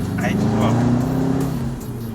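A big-turbo 2006 Subaru WRX drones loudly as it accelerates, wastegate opening, with a low steady tone, and a voice talks over it.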